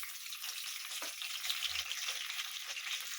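Mustard seeds and other tempering spices, dried red chillies and curry leaves sizzle in hot oil while making cabbage and dal fry, a steady close crackling hiss with no one talking.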